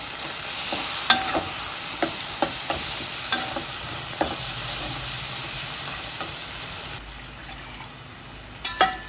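Spiced onion-tomato masala paste for a chana batana curry fries in a pan with a steady sizzle, broken by light spoon scrapes and taps as it is stirred; the hiss drops quieter near the end, with no voices.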